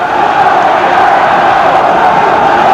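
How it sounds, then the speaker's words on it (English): A dense, loud, continuous roar of cheering fills an arena during a 1979 pro boxing bout, steady throughout with no single voice standing out. "The crowd now picking up the cheer."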